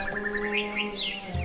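Red-billed oxpecker calls: a series of high, thin chirps and tweets against a faint steady background hum, fairly close and continuous.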